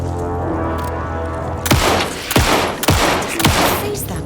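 Four heavy gunshots in Alan Wake 2 boom out at roughly half-second intervals, each a loud sharp crack with a trailing low rumble, following a stretch of droning in-game ambience.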